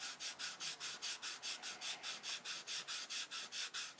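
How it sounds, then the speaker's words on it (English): Steady back-and-forth scraping of hand sanding and shaping aircraft wheel pants, about five strokes per second, close and even, with no voices. "Keep sanding and shaping"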